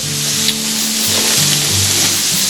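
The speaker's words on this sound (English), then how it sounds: "we got the hamburger cooking here, and I'm going to browning all this hamburger up" Hamburger meat browns in a pan with a loud, steady sizzle and faint stirring underneath, close and continuous throughout.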